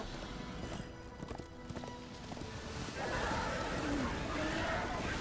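Horse hooves gallop in rapid clip-clop rhythm in the video game Darksiders 2, under a continuous game soundscape that grows louder and denser partway through.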